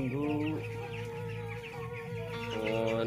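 Two-week-old broiler chickens in a poultry house cluck and peep in a continuous, busy chorus, many birds close by, with brief louder calls rising over the flock.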